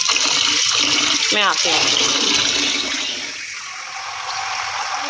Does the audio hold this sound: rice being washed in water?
yes